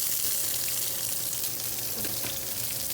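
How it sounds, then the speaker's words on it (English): Two hash brown patties sizzle steadily in a skillet, a dense, even frying hiss that fills the clip up close with no pauses and no voices. "So I'm going to start by putting 2 hash brown patties in the skillet."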